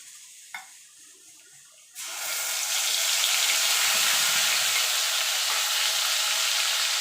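Ground ginger and green chili paste hits hot oil already spiced with whole garam masala for a vegetarian biryani. A quiet moment gives way to a sudden loud, continuous sizzle that holds steady up close.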